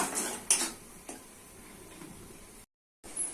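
Spices with turmeric, chilli, cumin, coriander powder and salt are stirred and fried in a pan, with a couple of sharp metal clinks over a low sizzle, then a brief silent gap before the scraping resumes.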